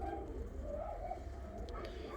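Young ornamental and costume pigeons in a loft cooing softly, low rolling coos against a quiet background with faint scattered chirps.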